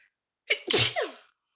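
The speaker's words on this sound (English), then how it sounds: "Oh, I gotta sneeze." A single loud, close sneeze with a sharp intake and burst, then silence.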